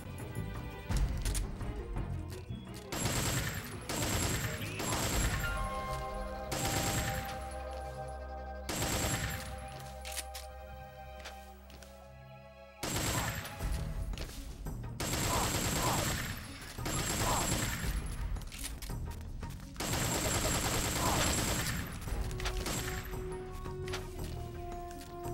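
Gunfire from Metal Gear Solid 3 rings out in repeated sharp shots and bursts over a long stretch of gameplay, mixed with game music and effects, with a brief quieter gap in the middle.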